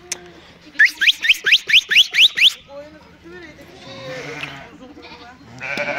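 Lambs and ewes bleating on a village farm at feeding time, a fast pulsing run of close, loud calls followed by looser overlapping bleats, with a faint voice behind.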